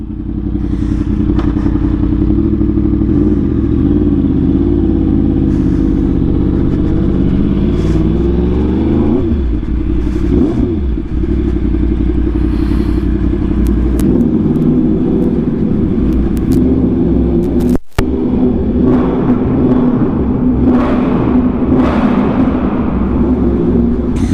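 A Yamaha R1M motorcycle with an SC Project exhaust idles loud and close, its deep steady rumble rising and falling with occasional revs and a brief dropout partway through.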